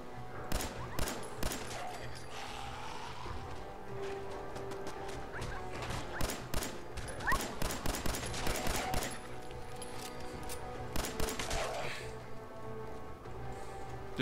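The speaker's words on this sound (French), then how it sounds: "Mitraillette." Bursts of machine gun fire crack out repeatedly in the video game Fallout 4, dense volleys with short gaps mixed with impacts and clattering game sounds, loud and close.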